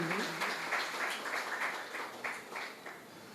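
Audience applauding a poet at a Kannadasan festival poetry gathering, a soft diffuse patter of many hands, fairly faint and distant, thinning slightly toward the end.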